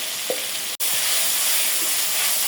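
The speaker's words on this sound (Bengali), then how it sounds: "মশলাটা একটু কষায় নেব পাঁচ মিনিটের মতো" A ginger, garlic and onion spice paste fries in a pan with a steady, moderate sizzle and hiss. A sharp tap lands near the start, and no one speaks.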